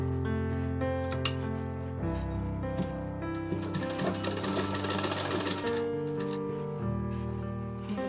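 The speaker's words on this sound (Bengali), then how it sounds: "আমি তো সেলাই দিয়ে আসলাম, আবার কিন্তু আমি আরেকটা সেলাই দেবো, ডবল সেলাই।" Sewing machine stitching a net saree being made into a long gown, running steadily and close up with a continuous rapid mechanical whir and needle chatter, loudest mid-clip, no talking.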